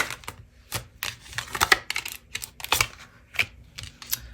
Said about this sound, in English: I'm guided to pull 3 more cards here.